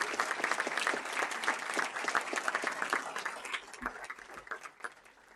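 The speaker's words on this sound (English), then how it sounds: "a big round of applause" Honorees being inducted onto a school community Wall of Distinction draw a crowd's applause, crisp individual claps clear at first and then gradually thinning out.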